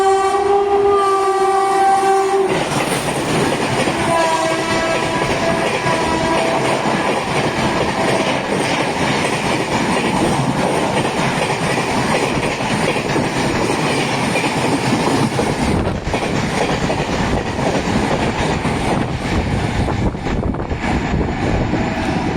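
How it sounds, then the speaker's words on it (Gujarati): Karnavati Express passenger train running between Ahmedabad and Mumbai, passing in monsoon rain; a loud horn blast opens, then a steady close roar of wheels and carriages rushing by continues throughout. "સામે વેબ 4 લઈને આવી છે કર્ણાવતી એક્સપ્રેસ"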